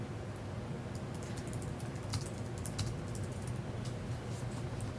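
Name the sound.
typing notes on a computer keyboard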